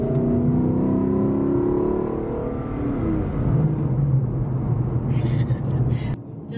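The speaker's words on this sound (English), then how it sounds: "I did not go over the speed limit there. I just accelerated really fast." A Lexus LC 500 accelerates hard along the 17 Mile Drive at Pebble Beach, California, its engine a loud, close rumble that climbs in pitch and then eases off, with a few faint voices near the end.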